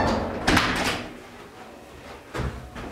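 A locked door rattles and thumps as someone tries it, with two short, loud knocks or jolts about two seconds apart against a quiet background.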